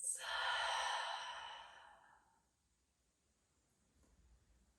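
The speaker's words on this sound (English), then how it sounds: "Nice deep inhale through the nose. And exhaling through the mouth." A deep exhale through the mouth during a yoga breathing exercise, one long soft breathy sigh fading out over about two seconds, followed by near silence and a faint breath.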